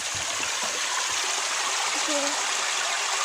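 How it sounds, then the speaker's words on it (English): Steady broadband rush of falling water, continuous and fairly loud, like a nearby waterfall, with faint voices underneath. "Look at that waterfall."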